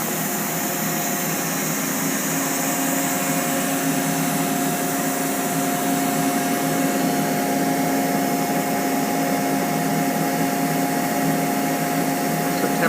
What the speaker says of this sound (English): Air nozzle.